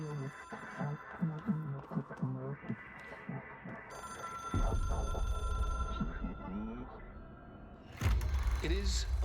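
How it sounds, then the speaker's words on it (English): A telephone rings in the video game Control, its steady electronic tone sounding over a loud low rumble after a stretch of talking, with a sharp burst of noise near the end. "It is a phone."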